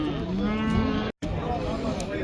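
Cattle at a livestock market in Kyzylorda give a low, drawn-out call over the steady murmur of a busy yard. Voices talk nearby, and there is a brief dropout midway.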